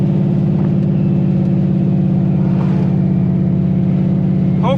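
A turbocharged Ford Mustang with a big circle D converter drives through the city, its engine holding a loud, steady low drone from inside the car without talking.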